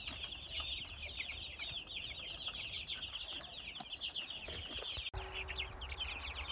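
Many four-week-old broiler chickens cheep and cluck together in a constant chattering chorus, fairly soft, with a short knock partway through.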